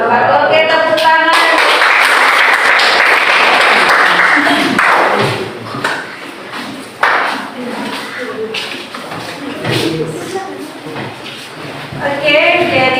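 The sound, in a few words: classroom applause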